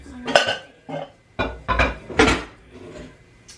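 Aluminum pots and lids clanking and scraping as they are shifted around, several loud knocks and rattles in irregular bursts, close by with brief pauses between.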